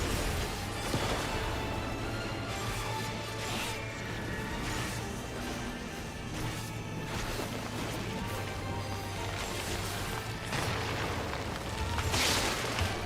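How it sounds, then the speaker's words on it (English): Big explosions in Final Fantasy XIV, booming and crashing almost continuously with a bright burst near the end, all over a dense, loud game mix with steady music. "Those have much bigger explosions than I thought."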